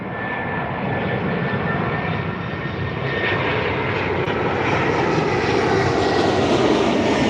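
An Iberia airliner at Dublin Airport roars past with a loud, continuous jet engine sound that builds steadily in intensity and pitch, with no voices over it.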